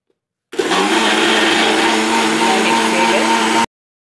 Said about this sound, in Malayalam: ഇനി മിക്സിയിൽ നന്നായിട്ട് അരച്ചെടുക്കാം